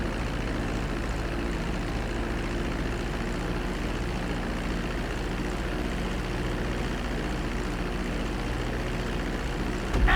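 An airplane's engines drone steadily as it approaches the runway in the GTA V video game, a dense, unbroken low roar holding constant loudness throughout with no speech.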